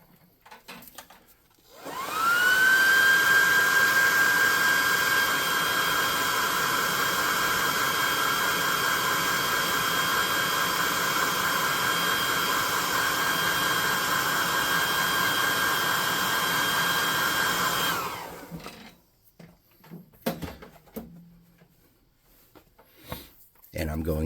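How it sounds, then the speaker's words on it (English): A hot air gun running on its low setting blows a steady, broad whooshing hiss with a faint whine for about sixteen seconds, starting and cutting off abruptly, used on painted miniature tabletop rats. "And I'm going to hit them with the hot air gun on low."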